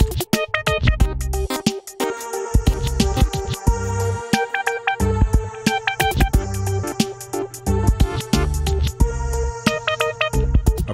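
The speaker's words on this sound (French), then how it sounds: "Ça nous donne un petit son de guitare." A synth bass played in a high register through Scream 4 distortion and reverb gives a gritty, guitar-like tone, picking out a rhythmic riff of short, punchy notes that repeats throughout.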